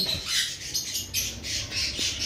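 A pair of caged conures let out repeated harsh squawks, close and fairly loud, in a rapid irregular series.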